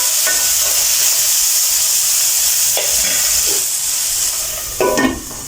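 Onions sizzle and fry steadily in a hot pan for an Ulli Theeyal, with a few scraping stirs and a louder stir near the end, close up with no talking.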